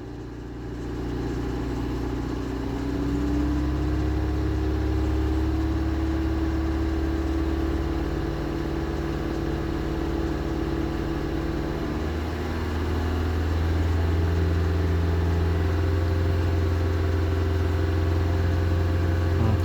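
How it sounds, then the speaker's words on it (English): A 2.3 turbo petrol engine in a Mazda CX-7 with 170,000 km, warming up after a cold start, holds a steady, loud hum just above idle, with a slight rise in pitch partway through and no talk. "Just take this above idle, see if we can get that O2 sensor to start cycling."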